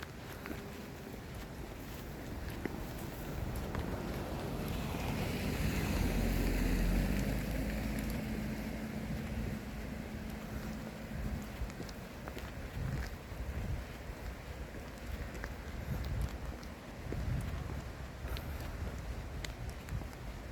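Large raindrops fall outdoors at a campsite, producing a steady broadband wash of patter with a gusty, wind-like swell in the middle, continuous and moderately loud with no voices.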